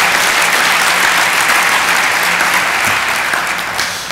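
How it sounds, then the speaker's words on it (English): Audience applause at Mayor Kevin Johnson's 2013 State of Downtown address: a steady, loud wash of many hands clapping throughout, thinning slightly at the very end. "So let's give them one more round of applause for the great work they're doing."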